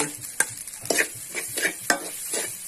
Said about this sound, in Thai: แล้วก็คนให้เข้ากันนะ